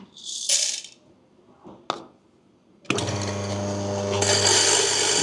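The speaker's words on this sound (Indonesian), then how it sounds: "Kita giling guys." A coffee grinder grinds Terror Blossom coffee beans. A few light clatters and taps come first, then the motor starts up into a loud, steady, close grinding whir that carries on to the end.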